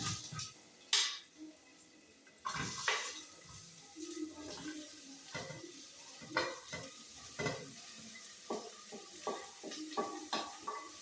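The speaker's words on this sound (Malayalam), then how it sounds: "ഇനി നമ്മൾ അരിഞ്ഞു വെച്ചിരിക്കുന്ന സവാള ഇതിലേക്ക് ചേർത്ത് കൊടുക്കുകയാണ്" Sliced onion added to hot oil with curry leaves in a pan and stirred: a loud clatter as it goes in, then a steady sizzle with repeated scraping and tapping of the spoon.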